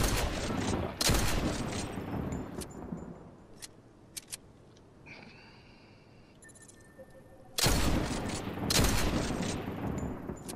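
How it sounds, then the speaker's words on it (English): AK assault rifle shots in a Fortnite match come in loud, sharp volleys near the start and again near the end. A quieter gap in the middle holds faint ambient game sounds and a few isolated pops. "that's a heavy AK"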